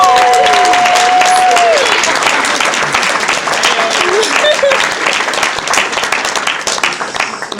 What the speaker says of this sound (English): Let's give Anita another round of applause